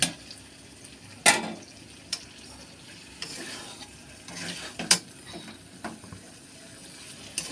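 Shrimp and cauliflower sizzle softly in a pan while a utensil scrapes and clinks against the metal now and then, close by.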